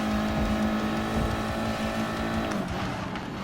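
Audi TT Cup race car in Gran Turismo Sport at Tokyo Expressway East: a steady droning engine note holding pitch, then shifting briefly near the end, heard continuously at moderate volume without talk.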